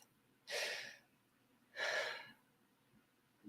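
Two slow, deep breaths drawn in close to the microphone, each a soft airy rush lasting about half a second, separated by quiet.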